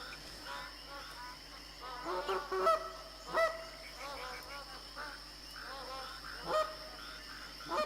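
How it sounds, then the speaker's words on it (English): Geese in TheHunter Classic honk several times at irregular intervals, moderately close, over a faint background of crickets and insects. "I've got some more geese coming"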